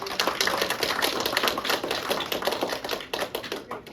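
An audience claps after pitch presentations at a symposium, a dense, even patter of hands that tapers off into scattered claps toward the end.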